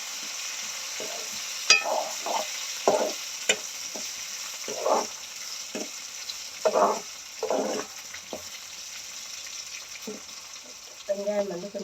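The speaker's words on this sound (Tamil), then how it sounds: "ஓகே எல்லாத்தையும் வந்து நல்லா கலக்கி விடுவோம்." Fenugreek seeds and onions frying in a pan for a Jaffna-style kuzhambu, with a steady sizzle under repeated scraping strokes of a spoon stirring through the mix, close and moderately loud.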